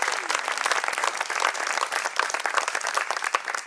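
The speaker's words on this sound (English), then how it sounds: "A round of applause, please." Wedding guests applaud the bride with sustained, dense clapping from a sizeable crowd, steady and fairly close throughout.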